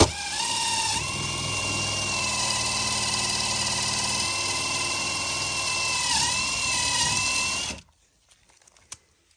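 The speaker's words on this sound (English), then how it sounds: "So I've got different size drill bits over here" A power drill runs continuously at a high whine for several seconds, drilling a Mercedes W221 S-Class door panel, its pitch dipping briefly under load, then cuts off into near silence.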